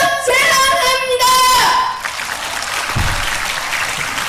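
An audience at an elementary-division Korean speech contest applauds for its young speakers, a broad wash of clapping that begins after a voice speaks and then continues at a steady level.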